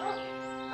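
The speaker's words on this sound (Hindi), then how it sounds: "कुछ देर बाद एक कुत्ता वहां पर भौंक रहा था।" A cartoon dog in an animated Hindi story about a poor farmer gives a single short, yelping bark, close and clear, with no speech.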